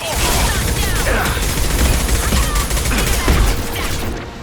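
Sustained gunfire rattles through a firefight in the video game Mass Effect 2, with dense overlapping bursts and impacts that stay loud and continuous throughout.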